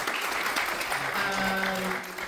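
A film festival Q&A audience claps steadily for a couple of seconds, a dense wash of applause with a faint voice or tone underneath.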